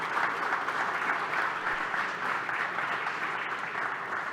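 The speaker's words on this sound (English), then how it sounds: "I want to ask the audience to give a round of applause" An audience at a football industry panel event applauds the panelists with steady, even clapping that holds at a moderate distance for several seconds, with no voices over it.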